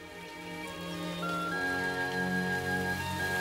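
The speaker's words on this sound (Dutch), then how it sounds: "Nog de stromende regen" Steady pouring rain, a continuous even wash of sound that swells slightly louder after the first second and holds alone, with a faint tonal hum running underneath.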